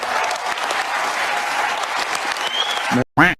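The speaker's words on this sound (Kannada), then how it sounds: "ಅದಕ್ಕೆ ಚಪ್ಪಾಳೆ" An audience claps steadily for about three seconds, a dense, even roar of applause, then stops abruptly as a voice begins.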